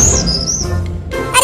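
A cartoon bird near its nest gives high, chirping tweets over a busy background, starting and returning toward the end, fairly loud and close.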